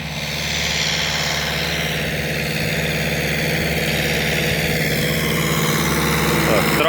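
An MTZ-80 tractor with a ballast loader attachment plowing a field, its diesel engine giving a loud, steady, close drone that runs without a break.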